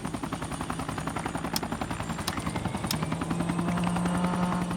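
A helicopter readying for liftoff makes a loud, steady rotor chop with a rapid pulsing beat, and its whine rises toward the end.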